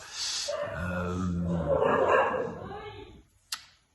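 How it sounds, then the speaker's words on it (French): Dogs bark and yip for several seconds, fairly close, mixed in with someone talking, then fall quiet after a sharp click near the end. "J'ai les chiens qui aboient."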